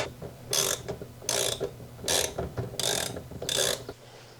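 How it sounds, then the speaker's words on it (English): A ratchet drives a self-tapping screw while mounting parts for a home air-conditioner airflow setup: five close, loud bursts of rapid clicking separated by short pauses, with no talk. "my dad will start ratcheting that self-tapping screw"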